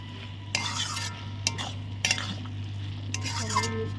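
Lentil fritters in a banana flower curry are stirred with a metal spatula, producing a few distinct scrapes and clinks against the pan over a low steady simmer and hum.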